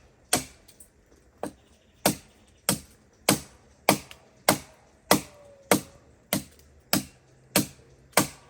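A knife chops food on a board for Jamaican outdoor cooking: about a dozen sharp, evenly spaced strikes, close and distinct, roughly one every two-thirds of a second, with quiet between them.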